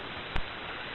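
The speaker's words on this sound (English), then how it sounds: "It's still raining out there." Steady rain falls outside during a wet night, a dense even hiss with one brief louder patter near the start, continuous and moderately loud with no voices.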